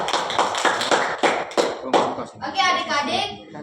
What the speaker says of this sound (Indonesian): Selanjutnya beri tepuk tangan kepada temannya.